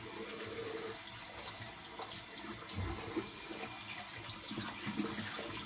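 Tap water runs steadily into a sink during face washing, a continuous broadband splashing hiss with small bursts of splatter as hands move through the stream, close and moderately loud, no voices.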